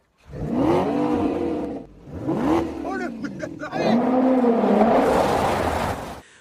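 Sporty car engine accelerating in bursts, with pitch rising through gears in three surges separated by brief lulls, loud and close, sometimes overlapping with faint speech.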